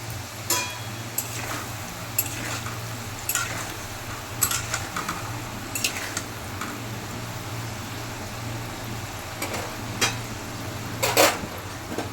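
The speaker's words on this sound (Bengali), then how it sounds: "তারপর আলুগুলো ভালো করে নেড়ে চেড়ে হালকা লালচে করে ভেজে নেব" Potatoes frying in a pan with salt and a little turmeric, stirred with a spatula: a soft sizzle under a steady low hum, with scattered scrapes and clinks of utensil against the pan at irregular intervals, no talking.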